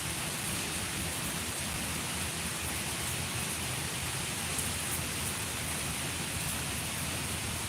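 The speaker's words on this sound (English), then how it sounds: "We out here in the rain." Steady rain falls outdoors on a chilly day after heat, a dense, even hiss of drops on surfaces that holds constant and alone throughout.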